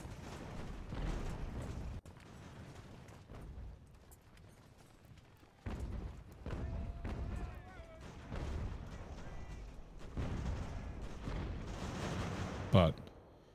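Artillery fire in the video game Ultimate General: American Revolution, distant booming cannon volleys rolling in repeated waves, fairly faint, with a sharper crack near the end.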